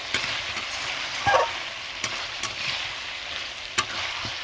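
Chicken liver and gizzard sautéing in oil on low heat, giving a soft, steady sizzle and crackle with a few distinct spatula scrapes and taps against the pan, fairly quiet and close.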